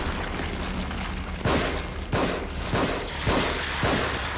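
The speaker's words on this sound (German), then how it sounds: "Ich schieß da die ganze Zeit durch." Gunfire in The Evil Within, a survival horror game: five or six heavy shots at irregular intervals, each a sharp broadband crack, over a constant rumbling game background.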